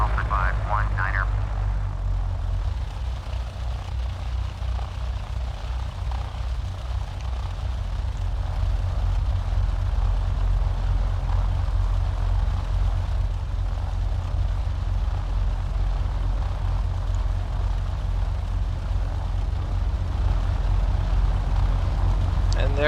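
Aircraft taxiing in the FsPassengers flight simulator game, a steady low engine drone and rumble that continues evenly throughout, with faint higher tones early on.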